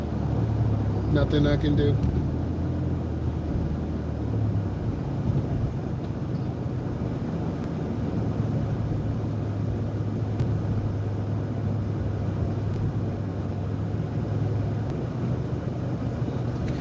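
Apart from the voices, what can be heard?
road traffic heard from inside a car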